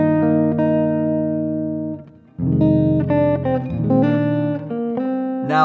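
Slow jazzy guitar chords, major 7, major 6 and minor 7 sharp 5 voicings, ring out one at a time, each sustained and let decay, with a short pause before the next strums, clean and close.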